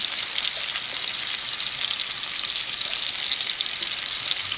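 Onions frying in butter and a little oil with cooked tomatoes, a steady dense sizzle and crackle holding constant and fairly loud throughout, with no voices.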